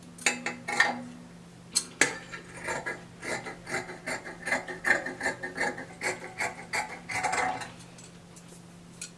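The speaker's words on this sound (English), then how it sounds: "I will cut out the front neckline." Scissors cut the front neckline out of dress fabric on a table in a series of crisp snips and blade clacks at an uneven rhythm, close and fairly loud, with no voices.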